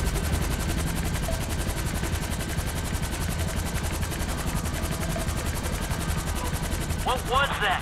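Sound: heavy machine gun firing at a helicopter in GTA V video game

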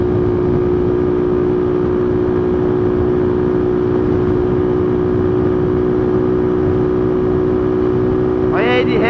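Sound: car engine revving during new engine break-in

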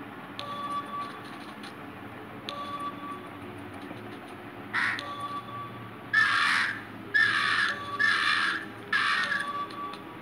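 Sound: crows cawing in the video game Monument Valley

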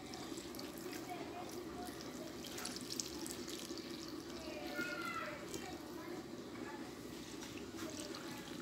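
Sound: pouring a litre of milk onto bread

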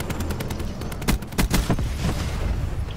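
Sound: Peacekeeper assault rifle gunfire, video game

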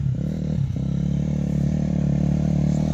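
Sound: dirt bike motorcycle riding on a wooded trail

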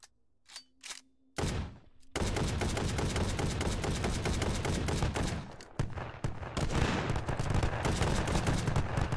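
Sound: gunfire from the video game H3VR

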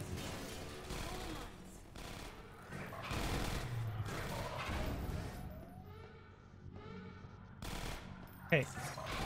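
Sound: gunfire in Half-Life 2 Episode One video game

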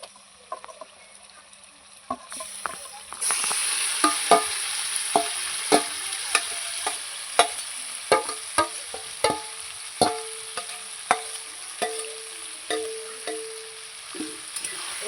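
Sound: goat meat frying in oil, stirred with a spatula

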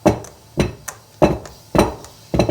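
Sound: tapping a filled cake pan to release air bubbles

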